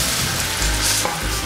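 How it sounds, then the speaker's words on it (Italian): Chopped tomatoes hit hot oil with fresh garlic in a pan, producing a loud, dense, continuous sizzle and crackle heard up close. "Questo è il suono che dobbiamo sentire quando aggiungiamo i pomodori."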